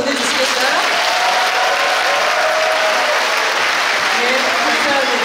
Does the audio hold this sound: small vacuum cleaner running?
no